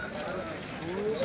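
Khillari bullocks' hooves clop on the ground at a livestock market in a brief, uneven run of steps, heard under nearby voices and general market murmur.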